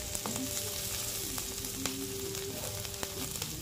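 Onions cook in a pan with a quiet, even sizzle that holds for the whole stretch, punctuated by small crackling pops and light clicks of a utensil.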